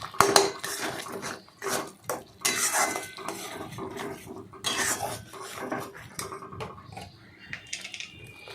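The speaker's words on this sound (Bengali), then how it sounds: "অল্প পরিমাণে নুন দিয়ে সেটাকে ভালোভাবে নাড়াচাড়া করলাম" Fried onions and raw mango are stirred with salt in a pan, metal spatula scraping and clinking against the cookware in irregular bursts, close and fairly loud, with no voices.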